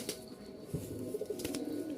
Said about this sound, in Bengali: এখানে দেখতে পাচ্ছেন একজোড়া কবুতর